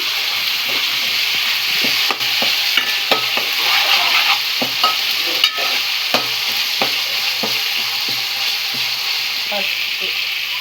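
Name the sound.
ginger paste frying in a pan with onions and green chilies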